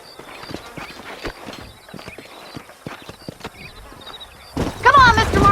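Horses walking in the Red Dead Redemption video game, with a steady run of clip-clopping hooves and a whinny near the end.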